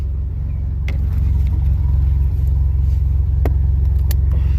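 Jeep engine idling loud and close, a heavy low rumbling drone with steady pulsing throb, occasional faint clicks and knocks over it and no talking.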